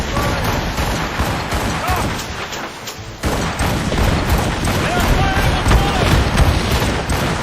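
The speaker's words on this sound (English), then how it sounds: "Cannon ready! Fire!" Rapid ship cannon fire during a naval battle in the video game Assassin's Creed Rogue, a dense rolling barrage of booms over several seconds, loud and close, with shouted commands from crew voices between volleys.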